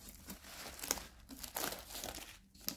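Plastic wrapping is torn and crumpled off a Faber-Castell Black Edition pencil box, with close, irregular crinkles and sharp rustling bursts and no talking.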